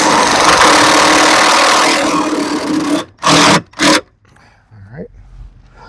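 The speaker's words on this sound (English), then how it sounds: "let's go ahead and drive these self-tapping nuts in here." A power driver sinks 3/8 inch self-tapping nuts into the body of a 2014 Ram ProMaster van, giving two short, loud bursts close by after a stretch of steady background noise.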